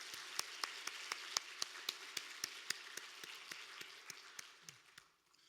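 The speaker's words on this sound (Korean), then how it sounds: "우리 남상국 목사님께도 감사의 박수 한번 해주시면 되겠습니다" A church congregation at a Wednesday evening worship service claps in thanks for the pastor: evenly spaced sharp claps over a soft bed of scattered clapping, fading as the applause dies away.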